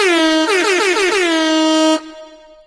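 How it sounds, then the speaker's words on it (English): A loud, sustained air horn blast lasting about two seconds, then cutting off into a fading tail. "Gotta do something about that air horn"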